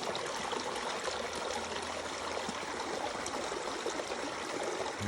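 Water rushing steadily over rocks in a forest stream near a waterfall where mushrooms are being washed, a continuous close, even babble with no speech.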